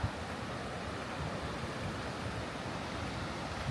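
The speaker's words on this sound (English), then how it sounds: "this is where the rivers start getting pretty loud here" Loud, steady rush of a river flowing past a campground in Cherokee, a broad continuous roar of water with no breaks, close and constant throughout.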